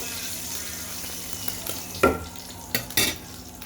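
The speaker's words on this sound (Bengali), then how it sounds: "পেঁয়াজগুলো আমার ভাজা হয়ে গেছে।" Onions fry in a pan with a continuous, moderate sizzle, interrupted by a few sharp scraping clinks of a utensil stirring against the pan near the end.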